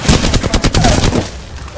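Rapid bursts of automatic gunfire in an Apex Legends battle royale match, loud and close, with sharp repeated shots in a fast rhythm that trail off into quieter ambience near the end.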